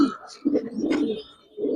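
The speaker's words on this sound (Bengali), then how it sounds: "এই যে দেখেন কবুতর গুলো" At a pigeon farm keeping high flyers, Budapest and racer breeds, a pair of pigeons give close, clear coos in three rounded bursts separated by brief quieter gaps.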